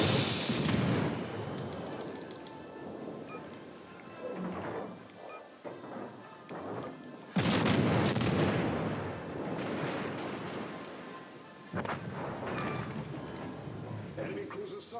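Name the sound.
warship gunfire in the video game World of Warships: Legends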